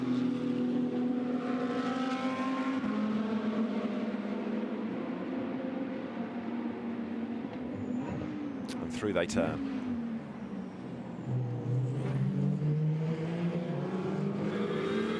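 GT2 race cars circulating behind the safety car at Spa, engines droning and shifting pitch as the field comes through, with a commentator talking over the steady engine noise.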